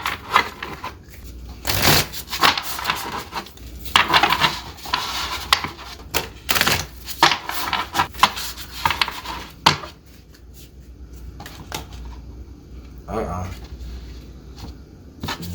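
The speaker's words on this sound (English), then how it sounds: "And let me shuffle this a little bit." An oracle card deck of Sacred Symbols cards is shuffled by hand, irregular bursts of riffling and slapping cards near the microphone with short pauses between, the activity thinning out toward the end.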